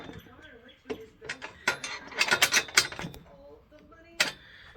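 Bolts being tightened on a mud mixer with a ratcheting wrench, sizes 16 and 17, giving a burst of quick clicking ratchet strokes in the middle with a few louder metallic clanks before and after.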